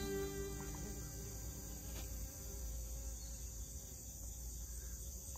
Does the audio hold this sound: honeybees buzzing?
yes